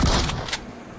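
A short burst of video game gunfire, with a loud shot at the start and a second crack shortly after, fading to quiet.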